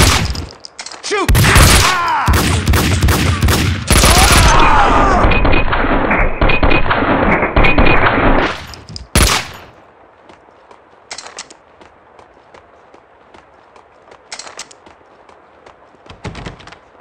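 Gunfire in the PC shooter Max Payne 2 rings out as rapid, loud bursts of shots with heavy thuds for several seconds, then stops, leaving a quiet room tone with a few faint clicks.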